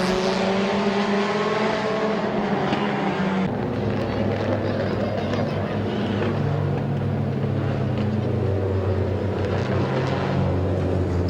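Compact race cars roar around Midvale Speedway in 2017, a loud, continuous drone of several engines that rises and falls as the cars pass, with no break in the noise.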